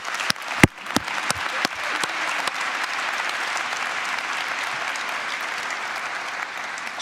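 An audience at a world leaders forum breaks into applause, starting with a few loud, separate nearby claps that quickly build into steady, dense clapping from the whole room and hold there.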